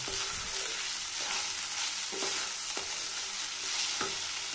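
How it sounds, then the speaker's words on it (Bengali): Rice with a little ginger being stir-fried in a pan, giving a continuous soft sizzle with regular scrapes of the spatula, quiet and close, with no talking. "এবার এটাকে ভালো করে খুব সুন্দর করে নাড়াচাড়া করে ভেজে নিতে হবে।"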